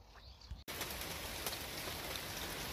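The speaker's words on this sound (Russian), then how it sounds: "но хлынул дождь. Утренний, майский," Heavy May morning rain pours down steadily after a thunderstorm, a dense, constant hiss that starts abruptly after a brief quieter moment and continues loud and unbroken.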